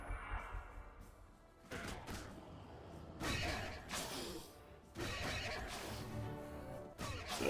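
Horses in the Age of Wonders 3 video game neigh and whinny repeatedly, layered with clattering hooves and combat crashes in a busy, mid-level game soundscape.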